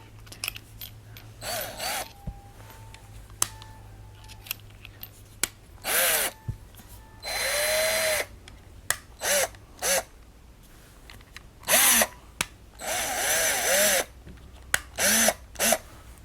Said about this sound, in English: So this is a brush drill.